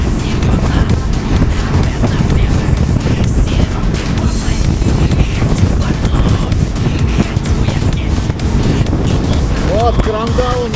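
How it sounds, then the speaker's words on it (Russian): Strong wind batters the microphone on an outdoor ride, a loud, continuous roaring buffet for the whole stretch, with a voice briefly heard near the end. "Ветер сильный, без рук опасно ехать."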